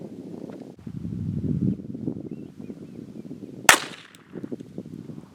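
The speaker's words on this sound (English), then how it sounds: "Getting ready to shoot the Winchester PowerPoint 42 Max. It is a 42 grain hollow point out of the Ruger LCP II." A Ruger LCP II .22 LR pistol fires one sharp shot of Winchester Power Point 42 grain hollow point ammunition, a single crisp crack amid low rumbling background noise.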